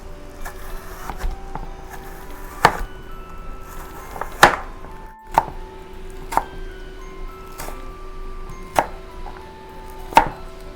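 Knife chopping Korean melon (chamoe) and cucumber on a board, a series of sharp, irregular thuds spaced a second or two apart, close and crisp over a faint steady background hum, without speech.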